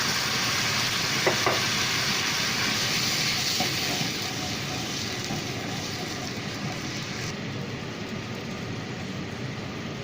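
A steady, broad sizzle of rich coconut milk sauce bubbling in a pan for crispy-skin jerk salmon, continuous and close, with a few faint utensil clicks early on and slightly quieter toward the end.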